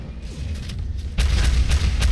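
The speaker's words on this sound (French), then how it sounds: "C'est des petits missiles, des petites balles qui s'en vont." Small missiles and bullets fire in the first-person arena shooter ShootMania Storm, rapid punchy bursts over a low rumbling game backdrop that grow louder and denser in the second half, with no talking.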